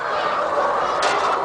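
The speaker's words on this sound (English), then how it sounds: "millions of chickens" Dense clamor of countless chickens at a poultry farm, a steady loud chorus of overlapping clucks and calls filling the space without pause.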